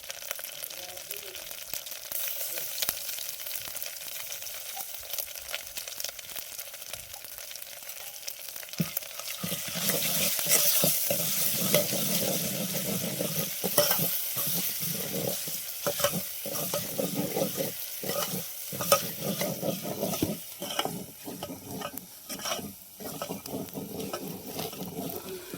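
Ground masala being stirred into a potato curry in a pan, with a steady scraping stir over a rising sizzle of frying that grows louder partway through and carries a few sharp clatters.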